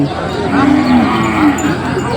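Cattle moo loudly and close at a livestock trading market in Sakon Nakhon, Thailand, one long drawn-out low call rising over the market's background murmur.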